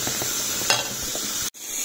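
Milk cream boils in a pan while being cooked down into ghee, giving a steady frying-like sizzle with soft bubbling and a stir or two. The sound cuts off abruptly near the end.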